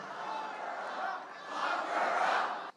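A large, enthusiastic crowd cheers and roars continuously at CPAC, the annual conservative gathering, swelling louder toward the end.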